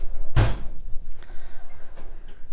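A toolbox socket drawer holding metric and SAE sockets slides open with one sharp, loud clack near the start. Softer rattles and faint shuffling follow.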